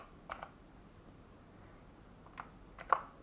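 A few sparse, distinct keystrokes on a Gasky KBM-MK01 keyboard tap out faintly in a quiet room: one click, a pause, then a couple more sharper clicks.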